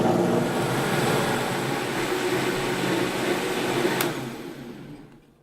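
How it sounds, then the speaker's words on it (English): Blender whirring through three cups of water and half a cup of hemp seeds, a steady loud motor roar that holds for about four seconds, then winds down and stops. "we're going to take 3 cups of water, put it in the blender, and we're going to add to that half a cup of hemp seeds"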